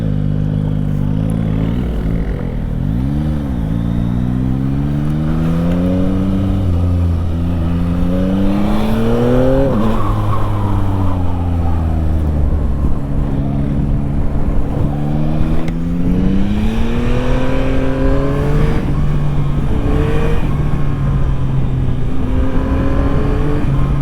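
A 2025 Yamaha MT-09 motorcycle in A2 trim pulls through the gears up close, its engine note climbing in long sweeps, dropping at each shift and settling into a steady cruising drone; nobody speaks.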